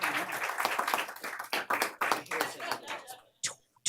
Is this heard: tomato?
no